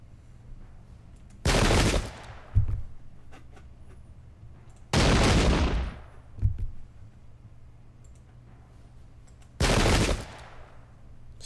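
Three loud musket volleys crash out at intervals in a Battle of Brandywine Creek war video game, each a broad, sustained burst of gunfire about a second long, aimed at grenadiers, with a faint echoing crack trailing the first two.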